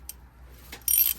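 A drain bolt tightened on a car during an oil service: a few quick, close ratchet clicks, ending in a brief, louder burst of ratcheting.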